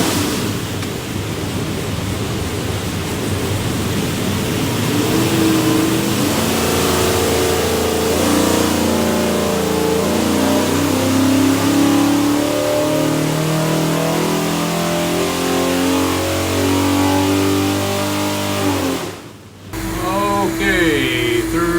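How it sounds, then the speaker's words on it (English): A 489ci big block Chevrolet V8 runs on a dyno, droning steadily and then climbing in pitch through a long sustained loud pull before cutting off abruptly near the end. "Will, here's your big block Chevrolet."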